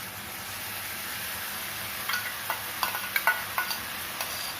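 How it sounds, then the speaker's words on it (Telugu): Wheat rava and moong dal tipped into a pot of cooked vegetables for vegetable rava khichidi, giving soft scattered stirring scrapes and taps over a steady low cooking hiss, close and fairly quiet. "ఇప్పుడు మనం ఇది గోధుమ రవ్వ పెసరపప్పుని దీంట్లో వేసుకోవాలి"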